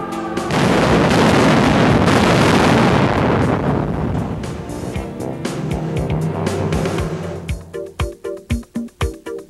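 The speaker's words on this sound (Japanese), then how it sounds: "そして作業員が退避した後爆発させます。" Dynamite blast set off inside a tunnel excavation face, a loud broadband roar that swells at once and rumbles for several seconds, then breaks into rhythmic thuds and clanks of falling rock and debris toward the end.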